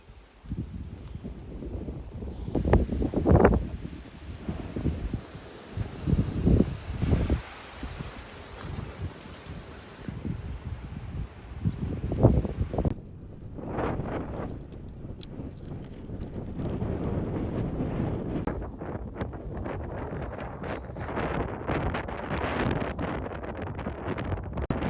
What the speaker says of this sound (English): The headwind was killing me. It was so strong.